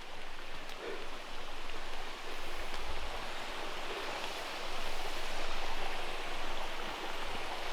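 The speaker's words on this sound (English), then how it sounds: "I think I'm almost to the waterfall." A waterfall and flowing stream in a forested gorge in Loyalsock State Forest, Pennsylvania, make a steady broadband rush of water, fairly distant and even throughout.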